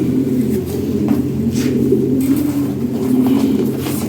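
Low, repeated cooing of pigeons close by, a steady murmuring drone with soft faint rustling in the background.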